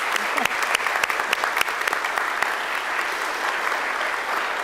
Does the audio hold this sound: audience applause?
yes